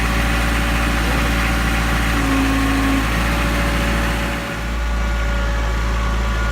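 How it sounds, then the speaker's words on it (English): A tractor engine idles steadily with a low, throbbing rumble and a constant mechanical drone throughout. "So I'm tramming the tractor down here to pick up another load of roofing."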